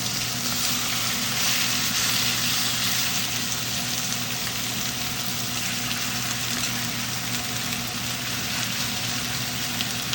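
Beef hitting a pan of dark, almost black caramelized brown sugar, a loud, steady broadband sizzle that holds for about ten seconds with no talk over it.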